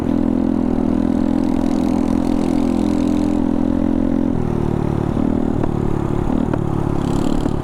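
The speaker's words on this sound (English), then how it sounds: "Oh, he's got a little backfire." A Honda Navi motorcycle engine runs loud and close with a steady mechanical drone, its pitch dropping partway through, followed by a few sharp popping backfire-like cracks near the end.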